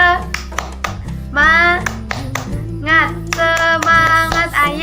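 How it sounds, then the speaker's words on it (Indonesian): A junior high class joins its teacher in a rhythmic spirit clap, sharp bursts of hand claps alternating with loud, chanted group voices close by. "Sekarang kita tepuk semangat dulu ya."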